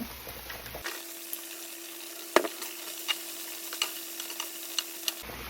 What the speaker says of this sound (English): And now I'm gonna add my onion and broccoli that we chopped up.